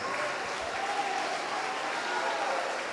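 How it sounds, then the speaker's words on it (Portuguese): A church congregation applauds during an altar call, a steady, dense roar of clapping that holds evenly throughout, with faint voices mixed in. "Vamos aplaudir mais."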